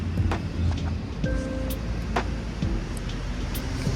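Steady road traffic rumble with passing vehicles and a few faint horn-like tones, continuous and moderately loud throughout.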